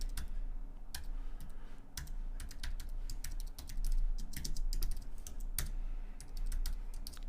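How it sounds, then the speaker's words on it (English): Fast, continuous typing on a computer keyboard, a dense run of close, crisp key clicks with brief pauses and a few heavier keystrokes. "Why am I typing it out?"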